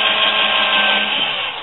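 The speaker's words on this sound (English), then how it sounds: "Take our drill. The holes are already tapped" A power drill whirs continuously at high speed as it drives a screw down into a pre-tapped base plate, loud and close, the motor tone winding down at the end.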